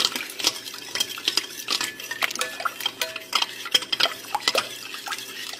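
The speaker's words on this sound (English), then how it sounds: "Stir it up." A spoon stirs coconut oil into golden milk, clinking and scraping against the cup in a steady rhythm of close, bright taps and swirls that carry on without pause.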